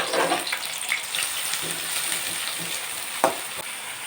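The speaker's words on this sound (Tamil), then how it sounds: "வெங்காயத்தை நல்லா வதக்கிக்கலாம்." Onions sizzling and frying in oil in a kadai, a steady close crackle with occasional stirring scrapes and a sharper clink near the end, no voices.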